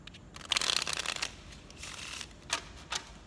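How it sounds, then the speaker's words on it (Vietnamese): A freshly opened deck of playing cards is shuffled by hand, with a dense riffling burst up close followed by a few shorter, sharper flutters and snaps, quiet and without speech. "trong khi mình xào bộ bài lộn xộn lên hết thì mình xào 5 tụ nha mọi người"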